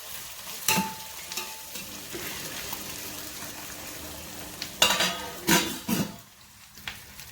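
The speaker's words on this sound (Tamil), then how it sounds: "இப்போ லேசாக கலக்கி விட்டு நாம் தீயை குறைச்சி வச்சு நம்ம மேலே உள்ள மூடி வந்துட்டு மூடி விட்டுடலாம்" Onions with ginger garlic paste sizzle in a pan as a spatula stirs and scrapes, with bursts of louder scraping and clinks of metal against the pan over a steady frying hiss.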